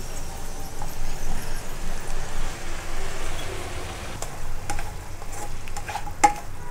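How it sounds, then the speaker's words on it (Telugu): Chopped tomatoes are stirred into a frying broad bean curry, a close rhythmic scraping and stirring over a soft sizzle, with a few clinks of a utensil near the end. "ఇలా టమాటాలని ఒకసారి కలుపుకోవాలి."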